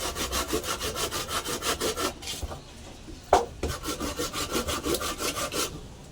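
A hand saw cuts through hard wood in steady, rhythmic back-and-forth strokes, pausing briefly midway with a knock before the rasping strokes resume close and loud.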